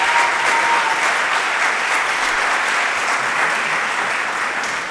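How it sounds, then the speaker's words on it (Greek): Warm, sustained applause from a concert audience for a Greek choir, an even, dense clapping that fills the hall without talk. "Ένα ακόμα θερμό χειροκρότημα για τη χοροδία «Αρμονιστές»."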